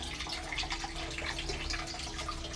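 Water draining steadily through a strainer as rice is drained in a home kitchen while making pulao, a continuous soft splashing trickle, close and fairly quiet.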